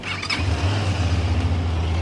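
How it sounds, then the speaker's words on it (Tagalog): An SRK 550 big-bike motorcycle engine idles just after starting, a close, loud and steady low rumble with a brief higher squeal at the start. "So, pagka in-on mo yung engine, ayan, ma-check na natin yung kanyang tunog."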